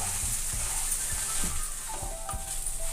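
Crumbled leftover idlis for upma sizzle steadily in a pan while being stirred, with soft regular scraping thumps from the stirring under the constant frying hiss.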